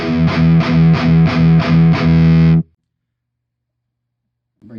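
Electric guitar through a Peavey Ultra Plus amp with the edge control at 4, strummed in six loud, driven chord hits with a steady rhythm, then ringing to silence before a brief new attack near the end.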